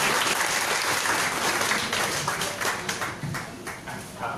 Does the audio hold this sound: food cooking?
no